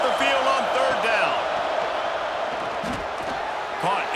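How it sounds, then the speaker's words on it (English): Home crowd roaring in a College Football 26 video game, a loud continuous stadium din with rising shouts and whoops, heard under a commentator's voice. "Here comes this home crowd as the defense tries to get off the field on third down."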